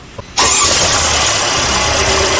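A car engine starts abruptly after a short quiet moment and keeps running loudly and steadily, close by.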